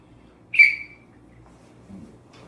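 A single short, shrill blast from a survival whistle near the start, then quiet with faint low background noise.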